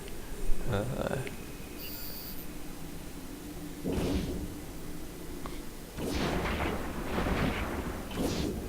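A ship explodes in the space game EVE Online during a frigate free-for-all: broad, rushing bursts of explosion noise rise out of a low droning game background, then fade.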